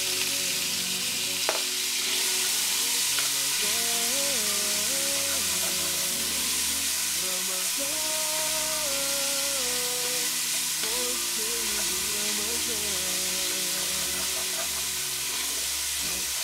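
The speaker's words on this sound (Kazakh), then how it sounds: "ұсақтап текшелеп тураған пиязымыз бен тәтті бұрышымызды салып қуырамыз" Diced onion and sweet pepper frying in oil in a cauldron, giving a loud, steady sizzle and hiss that holds throughout at close range, while music plays underneath.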